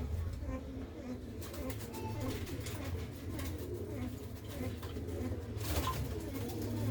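Soft, continuous cooing from several pigeons, low and murmuring, with rustles and faint chirps mixed in.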